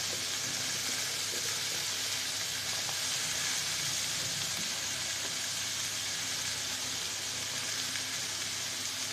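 Drumsticks go into a pan of catla fish curry cooked with little oil, setting off a loud, continuous sizzle and frying hiss that holds steady throughout.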